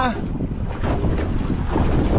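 Strong wind buffets the microphone while waves wash against a fishing boat at sea in rain, a steady roaring rush throughout with faint voices in the background.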